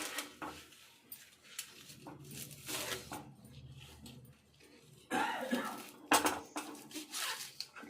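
A knife chops through leafy vegetable stalks, making repeated crisp cuts and clattering thuds on a board. The cuts come irregularly, close by, with a louder burst of handling toward the end and a faint cough-like noise at one point.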